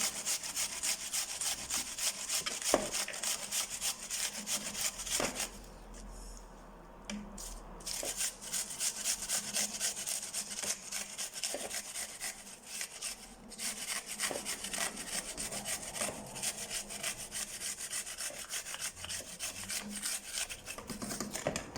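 Onion grated by hand on a grater for Lithuanian kugelis, the wet flesh giving steady, continuous rasping strokes close up with a few sharper scrapes and brief pauses, and no talking.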